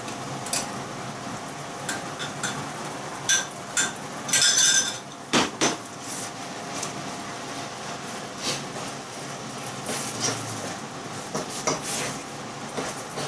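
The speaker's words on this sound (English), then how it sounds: "Put that in now, stir it in." A spoon scrapes and clinks against a metal pot in irregular strokes while stirring blended ginger, tomatoes and garlic into a bean and cauliflower curry, with occasional sharper knocks, close and fairly quiet, with no talking.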